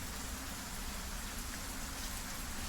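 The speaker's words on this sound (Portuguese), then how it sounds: "esse som de chuva e trovões aí dentro" Steady rain pours inside a majestic temple-like place in a video game, a dense, even hiss with no distinct thunder clap and no voices.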